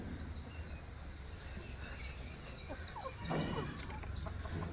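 Aseel chickens in a cage, clucking faintly and intermittently over a low background hum.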